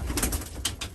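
A racing pigeon coos close by in a short, soft, throaty burst, with a couple of breathy pulses over a low, rumbly background and no speech.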